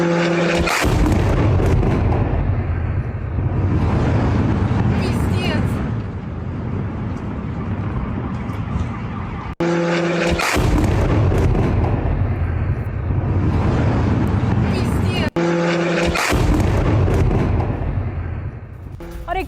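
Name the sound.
Russian missile and drone attack explosions on Ukraine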